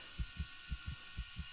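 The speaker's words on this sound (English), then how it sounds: "you'll hear the heartbeat" A character's heartbeat from the video game Starfield thumps in low, soft paired beats, three double pulses at a steady pace, alone over a faint background hum.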